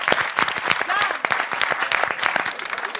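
Studio audience applauding at a French television talk show, a dense steady wash of clapping with some crowd murmur, close and loud throughout.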